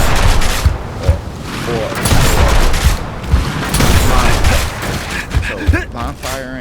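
Shotgun fire in Gears of War gameplay: loud, repeated blasts and booming gunfire crowd a busy battle mix, with someone talking over the shots throughout.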